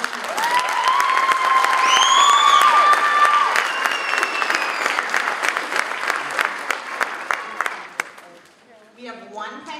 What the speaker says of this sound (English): Let's give them another round of applause for auditioning.